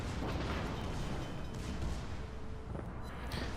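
Battleship North Carolina's gun salvo in World of Warships, a loud, deep rumbling boom of heavy guns that rolls on as a continuous roar with a fainter secondary crack near the end, with no talk.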